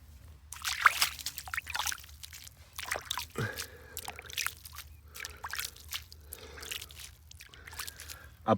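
Irrigation water running through a field channel beside vegetable plants, soft sloshing and trickling that carries on continuously, close by with occasional louder splashes.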